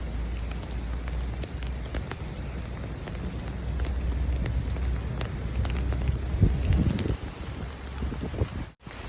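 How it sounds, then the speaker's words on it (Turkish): Heavy rain and hail pour down outdoors at a seaside fishing town in Malta, a steady dense hiss with wind buffeting the microphone and occasional sharper impacts, no talking. "Şu an dolu yağıyor."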